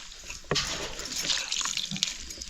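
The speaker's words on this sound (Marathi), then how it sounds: "पूर्ण पाणी काढून टाकायचं आणि पिळून घ्यायची मस्त हाताने मस्त पिळून" Water trickles and drips as cooked moringa leaves are squeezed by hand, a soft, continuous splashy patter with a few sharper drips.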